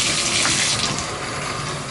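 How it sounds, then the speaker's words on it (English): Hot water runs at strong pressure from a shower in an apartment bathroom, a steady, close hiss and splash of spray with no voices over it. "you can see just on the hot water, you've got great pressure"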